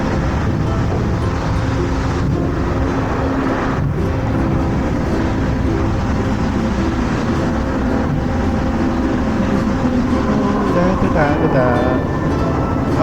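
A ship's anchor is heaved up in Dalian, China, the windlass and anchor chain producing a steady, dense mechanical rumble and clatter that runs continuously throughout, with faint talk in the background.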